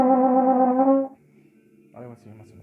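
A trombone plays a passage from a solo: one sustained, harmonically rich note held for about a second, then quiet, with a short softer phrase near the end.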